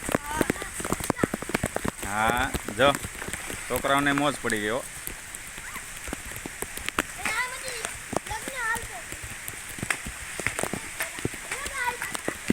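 Steady rain falls on surfaces outdoors, a continuous hiss with scattered drop impacts throughout, while children shout and play and an adult talks over it.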